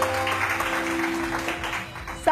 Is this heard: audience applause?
yes